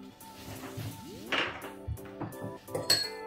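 A spoon clinks and scrapes in a bowl, stirring halved yeast into warm water for a no-knead baguette dough, with several close, uneven taps and scrapes.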